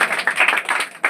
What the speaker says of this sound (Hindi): इनके लिए जबरदस्त तालियों का स्वागत किया जाए